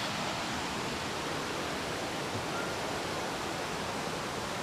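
Tumbling River rushes along a nature trail near Carters Lake, giving a steady, dense, unbroken roar of water, close and constant from start to finish, with no voices.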